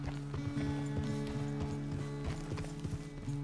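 A horse's hooves clip-clop in Red Dead Redemption 2 in a steady walking rhythm, close and clear, layered over sustained low musical tones.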